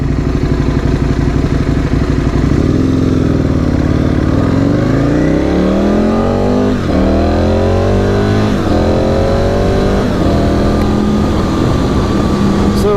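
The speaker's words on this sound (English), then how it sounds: "large V-twin, it needs a little bit of power to crank it and start" An Aprilia RSV motorcycle with a large V-twin engine fires up and runs loud and close, its deep rumble rising and falling in pitch as the throttle is blipped.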